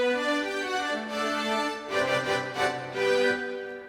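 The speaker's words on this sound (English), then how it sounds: "soprano sax," Soprano sax voice on a Yamaha PSR-SX920 keyboard plays a smooth, sustained melodic line over soft accompaniment, close and moderately loud, with no speech.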